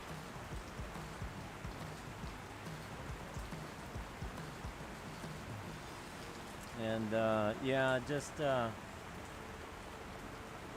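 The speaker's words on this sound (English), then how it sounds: "it went from loud pipes to the noise of rain." Steady rain falls on surfaces outdoors at a Daytona Beach bike week gathering at a saloon, a constant soft hiss throughout, with someone briefly talking over it near the end.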